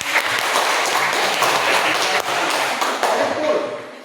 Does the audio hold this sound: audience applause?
yes